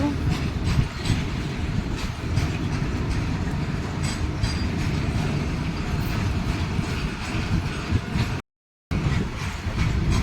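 A train rolls past on the rails, a loud, steady rumble with rhythmic clickety-clack of wheels that continues throughout, briefly cutting out near the end.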